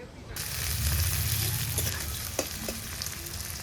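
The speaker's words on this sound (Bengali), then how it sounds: "এখন সর্ষের তেলে ফোড়ন দিব ফোড়নে শুকনো লঙ্কা তেজপাতা জিরে গরম মশলা" Dried red chillies, bay leaf, cumin and garam masala hit hot mustard oil with a sudden loud sizzle that settles into steady frying, with a few sharp clinks from a utensil.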